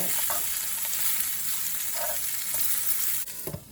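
Stuffed baby eggplants fry in hot oil with a steady broadband sizzle, broken by a few soft clinks and stirring sounds, before the frying noise drops away near the end.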